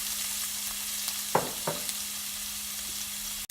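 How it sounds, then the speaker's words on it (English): Onion sautéing in a pan with mustard seed, cinnamon, cardamom and fennel seed, a steady soft sizzle running throughout, with a couple of brief stirring knocks near the start. "I'm going to let this onion saute for a couple of minutes."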